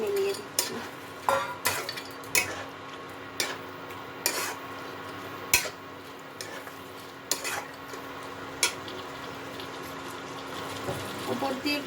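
Fried lentil dumplings, broken into pieces, are stirred into a pui greens curry in a pan: a quiet simmer runs under intermittent sharp utensil clicks and scrapes against the pot, spaced about a second apart.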